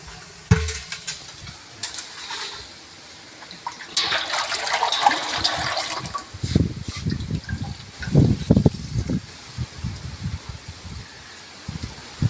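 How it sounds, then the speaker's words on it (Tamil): A pre-mixed herbal oil blend for a joint-pain remedy is poured into a pan, giving a steady liquid pouring wash that swells and fades, followed by several low thumps and splashes near the end. "முதல்ல அதை ஊற்றிக்கிடுவோம் சட்டியில்"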